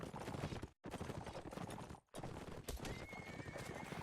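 Busy video game battle with cavalry: rapid galloping hoofbeats and a horse neighing as it falls, dense and loud, broken by two brief dropouts.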